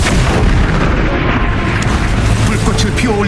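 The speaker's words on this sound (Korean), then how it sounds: "연구실은 폭발했고 크라저가 고양이는 하늘 높이 솟아올랐어" A bomb blows up a laboratory in a game, a loud, sustained rumbling blast with heavy low booms that rolls on without pause while a voice talks over it.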